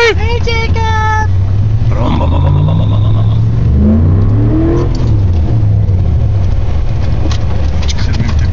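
A Ford F150 pickup stuck in snow during a blizzard, its engine revving and rumbling with rising and falling pitch sweeps beneath loud wind noise, with voices and shouts at the start.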